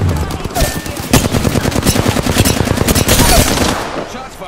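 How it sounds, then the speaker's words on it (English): Rapid automatic gunfire from the Apex Legends battle royale shooter, a loud, dense burst of shots firing nonstop for several seconds up close. "Shots fired. And they're near to me."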